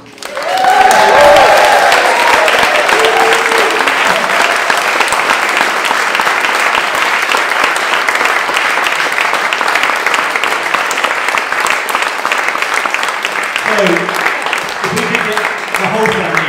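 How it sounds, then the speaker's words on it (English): An audience in a church claps and cheers steadily for a departing family at a farewell Sunday service, a dense, loud wash of applause lasting the whole stretch, with a few voices calling out near the start and again toward the end. "So let's have a huge and loving cheer for Yann and the whole Tibroy family."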